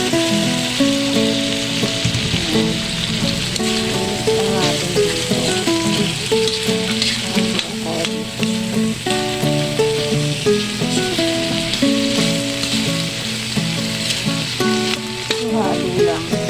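Corned beef and pounded broccoli sizzle loudly in a frying pan as they are stirred, a continuous crackling hiss with scraping from the utensil and a faint voice in the background.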